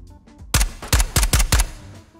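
Video game gunfire while looting a missile silo: five sharp, loud shots in quick succession, each with a short ringing tail, preceded by faint background game sounds.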